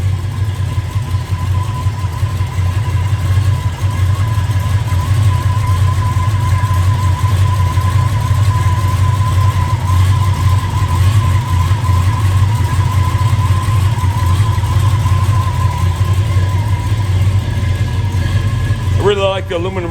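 A 1968 Ford F100 pickup's 360 V8, fitted with an aluminum radiator, idles loudly and steadily up close with a deep continuous rumble, holding an even rhythm throughout and only a slight change near the end, while someone talks over it.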